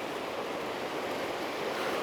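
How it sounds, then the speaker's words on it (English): Rough, churning creek water rushing beneath a bridge, a steady broadband wash close to the microphone with no break and no voices. "The rough water over here, it might be tough to see"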